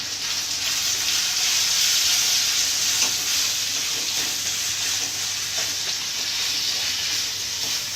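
Capsicum egg curry with onions is stirred and cooked in a pan, giving a steady loud sizzle and hiss with soft scraping stir strokes throughout.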